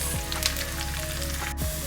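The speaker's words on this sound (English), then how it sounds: "Just when you feel the garlic is getting fried, slow the flame" Garlic sizzles steadily in hot oil in a pan as mango pickle is made, a close, continuous frying hiss with faint stirring and no voices.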